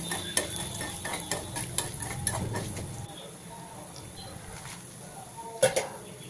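Urad dal and coriander seeds frying in a pan for ginger chutney, stirred with a spoon, making soft scraping and a light sizzle with scattered clinks, close up.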